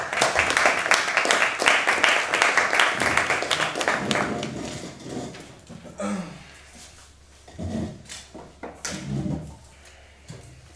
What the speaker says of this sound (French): nous appelons à la barre madame la deuxième ministre du gouvernement, sous les applaudissements du public